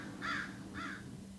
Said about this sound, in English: Go get those crows.